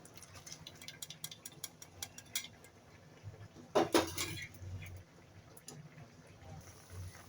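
Thick cooked chana dal slides and splashes into a pot in a brief wet pour, with clinks of cookware and faint kitchen clatter before and after.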